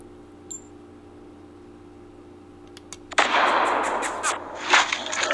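Simulated gunfire from a Sharper Image AR Blaster toy gun paired with a free sniper app, a few faint clicks and then a loud, noisy blast whose rough, crackling tail fills the last couple of seconds.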